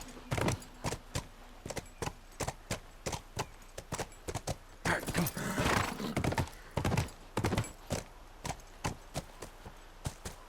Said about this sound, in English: Get back on the horse, Scooch.